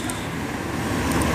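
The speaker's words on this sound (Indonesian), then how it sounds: "Ada bus pariwisata PO Jaya Mandiri." A PO Jaya Mandiri tour bus drives past on a road amid steady traffic, its engine a continuous broadband rumble at moderate loudness with no voices.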